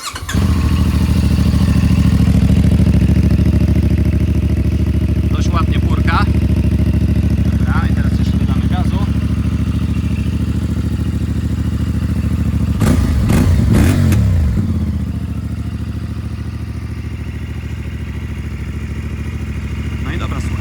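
A CFMOTO 450 MT motorcycle engine idles with a steady, loud, close rumble, and a short burst of revving comes near the end before it settles back to idle.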